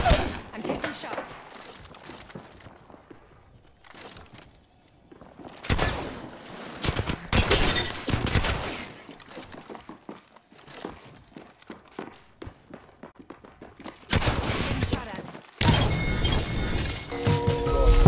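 Video game gunfire crackles in loud bursts of rapid shots separated by quieter stretches, with a voice audible at times between the volleys.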